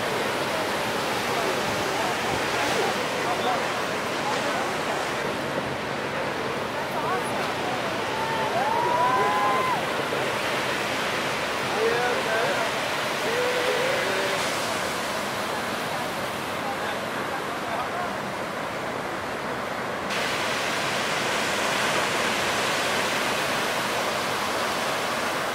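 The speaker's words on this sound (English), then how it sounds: "let's check the waves. The waves are mad." Ocean surf at a beach during a surf competition produces a steady, washing roar, moderately loud and continuous with gentle swells in intensity and no clear breaks.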